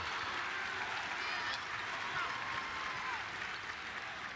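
An arena crowd at a Cincinnati Bearcats NIT basketball game roars in a steady, dense wash of cheering and applause after a blocked shot.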